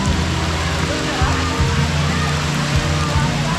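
Heavy rain pours down as a dense, loud, continuous hiss of water, steady from start to finish, with low thumps and a faint background voice mixed under it.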